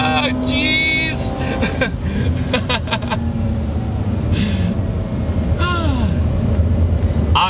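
A Mazda RX-8 rotary-engined car drives at full throttle, its loud engine drone holding steady and rising in pitch through the gears, while people speak and laugh over it.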